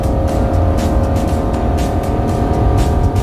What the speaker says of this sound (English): Shifting to 30 miles. tranny automatically shifted.